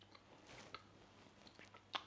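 Buttered spelt poppy seed bread being bitten and chewed close up, a few soft crisp crunches over near silence.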